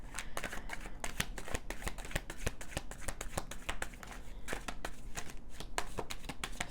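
Tarot cards are shuffled by hand close up, a rapid run of crisp riffling clicks and taps that keeps going for several seconds, with no talking.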